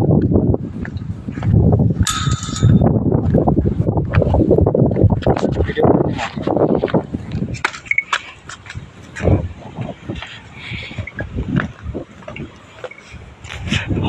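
Wind buffeting the microphone outdoors at Durgadih dam, loud rumbling gusts throughout with people talking over it and occasional clatter.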